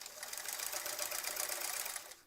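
A sewing machine doing free motion quilting runs in a fast, steady, rattling stitch for about two seconds, close and fairly quiet, then stops.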